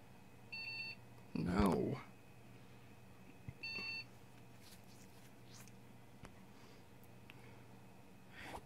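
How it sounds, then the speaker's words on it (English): A newly built PC with new components gives short bursts of fast, thin beeps at its first startup. The beeps are faint and sit between louder bumps of handling noise in a quiet room. "Three fast beeps."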